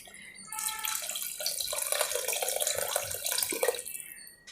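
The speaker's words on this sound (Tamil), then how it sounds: "1 to 2 cups கிட்ட தண்ணி விட்டுருங்க." Water pours from a tap or vessel over soaked white karamani beans in a kitchen pot, a continuous splashing gush that starts abruptly and stops after about three seconds.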